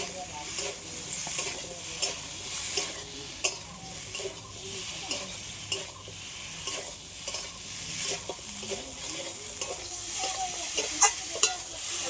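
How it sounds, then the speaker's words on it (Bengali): Fish roe fritters stir-fried together with poppy seed and spiny gourd curry in a pan, a steady sizzle broken by frequent scraping and clinking stirs at an irregular rhythm, close and moderately loud with no talking. "ডিমের বড়াটাও দিয়ে দেবো সব একসাথে একটু ভালো করে কষে নেব"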